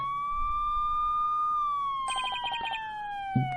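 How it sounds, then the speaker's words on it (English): Police car sirens wail outside in the video game Ace Attorney: Spirit of Justice, a loud steady rising-and-falling tone that slowly drops in pitch, joined midway by a quick pulsing electronic chirp pattern, with no speech. "Mr. Wright, there are police cars outside"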